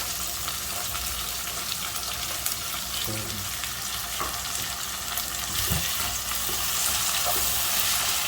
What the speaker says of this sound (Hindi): बस 5 मिनट इसको फ्राई करना है जी